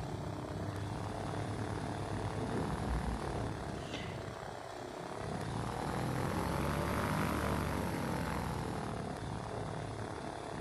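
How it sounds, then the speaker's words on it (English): Engine of a propeller aircraft in Flight Simulator runs steadily and loud as the plane starts up and taxis, a continuous drone that swells slightly midway, with no talk over it. "start the engine and taxi our way out"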